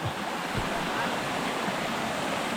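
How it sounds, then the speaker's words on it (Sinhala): Bridal Veil Falls in New Zealand roars in a constant, dense rush of falling water, loud and close, with no pauses. "මේ තමයි ෆෝල් එක වැටෙන වතුර පාර"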